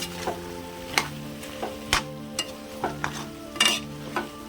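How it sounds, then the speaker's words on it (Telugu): Chicken curry simmering in a pan, stirred with a spoon that clinks and scrapes about once a second, close and distinct over a low bubbling background, with no talking. "కలిదిప్పుకుందామండి."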